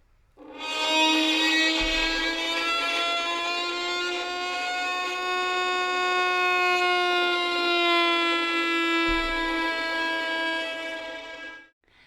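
A violin bowed roughly for eerie horror-film music holds one long, loud tone with a raspy, harmonic-rich edge; its pitch wavers and drifts slightly upward over about eleven seconds before stopping abruptly.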